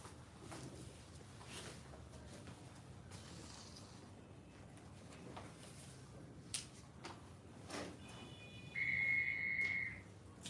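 A sharp, steady whistle blast signalling the start of a Big Brother Naija house task sounds near the end, preceded by scattered clicks and faint shuffling in a quiet room.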